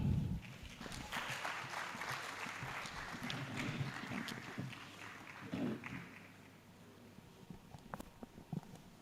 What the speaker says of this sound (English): Ladies and gentlemen, with a round of applause, shall we welcome Godwin Afful